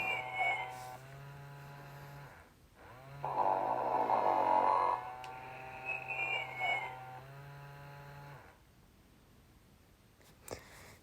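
A 1996 Sing and Snore Ernie toy runs its snoring mechanism, giving two long buzzy electronic snore tones with a rising breathy sound between them, close and fairly loud.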